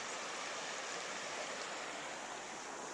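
A river runs under a bridge as a steady, even rush of flowing water at low, constant loudness. Nothing else stands out and nobody speaks.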